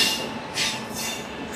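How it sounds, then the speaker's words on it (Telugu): Goods train pulling into a station platform, a faint distant rumble of wagons on rails with soft rhythmic clatter and brief hissing bursts, no voices. "ఒక గూడ్స్ ట్రైన్ వస్తుంది"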